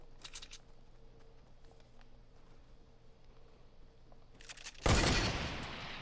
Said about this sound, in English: Oh, he's shooting, he got a heavy.